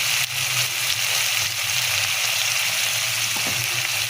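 Ginger paste sizzling steadily in a hot frying pan for a dish of peas and paneer, a continuous loud hiss with no voices over it.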